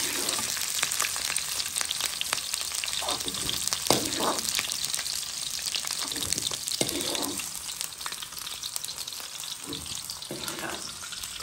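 Onions frying hard in a hot pan for a shrimp sauté, a loud continuous sizzle and crackle with occasional stirring scrapes throughout.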